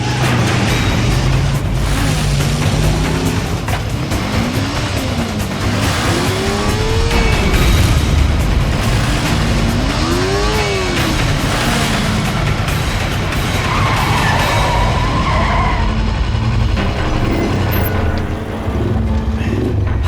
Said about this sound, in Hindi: ये ट्रक क्यों इतनी तेजी से जा रहा है?